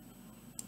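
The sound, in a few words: computer mouse right-click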